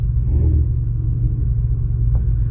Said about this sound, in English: We got Shelby Mustang GT350 coming through.